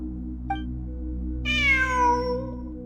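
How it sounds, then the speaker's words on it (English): A cat meows in the video game Genshin Impact: a single clear, drawn-out meow rising then falling, heard over a steady low hum of game ambience with no talk. "I'm not hearing things. It really is a cat."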